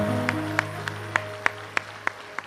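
An audience at a Hindi poetry gathering claps in slow, even unison, about eight sharp beats in a row over a steady background tone, with no talk.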